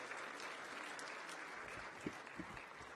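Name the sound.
forum audience applause for speakers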